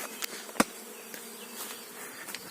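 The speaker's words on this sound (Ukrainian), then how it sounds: "а вони собі помаленьку по рамці. Ось такий рій." A bee swarm moving over a hive frame gives a soft, thin buzzing hum with a few faint clicks and one brief knock, quiet and close.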